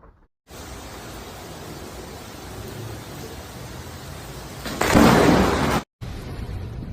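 Heavy rain from Hurricane Milton in Florida: a dense, steady roar of downpour that swells to a louder surge near the end before cutting off abruptly.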